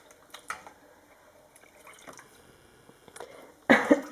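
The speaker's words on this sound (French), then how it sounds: "Tu le rinces dans ton lavabo." Water drips and splashes in a bathroom sink as something is rinsed, scattered soft drops building to a louder splash of running water at the end, no one speaking.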